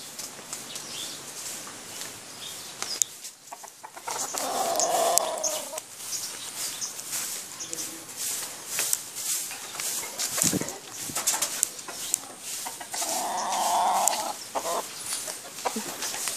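Racing pigeons coo and cluck softly over a busy outdoor background, with flapping and scattered clatter rising and falling throughout.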